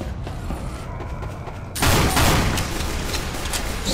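Gunfire in Team Fortress 2, a dense loud barrage of rapid shots and impacts that swells into a heavier burst partway through, layered over busy game noise.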